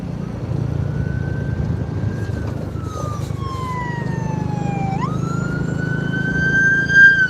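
A lead traffic vehicle at a cycling race sounds a steady wailing siren that rises and falls in pitch. It carries loud over a continuous low road rumble, with no talking.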